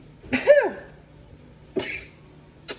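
A sharp, close sneeze-like burst with a rising vocal tone, followed by two shorter breathy bursts after pauses.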